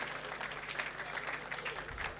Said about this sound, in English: Keep that applause coming, please.